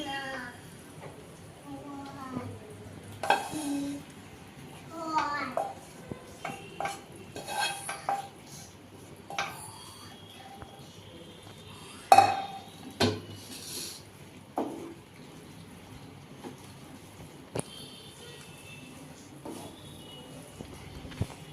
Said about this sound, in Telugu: కొంచెం కొంచెం తీసుకొని దీంట్లో ఇలా యాడ్ చేసుకొని తిప్పుదాం